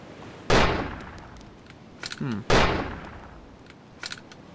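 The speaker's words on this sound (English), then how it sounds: "Where are these shots landing?" Gunfire from the ARMA 2 DayZ Overpoch mod: two loud, sharp shots about two seconds apart, each with a long ringing tail, plus a short metallic burst between them and fainter distant pops afterward.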